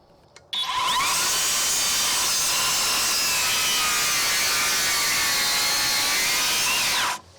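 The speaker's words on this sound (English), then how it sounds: "let's do it again with the skill saw" A Skilsaw cordless worm drive circular saw spins up and cuts through wood for about six seconds, loud and steady with a whining blade tone, then winds down abruptly.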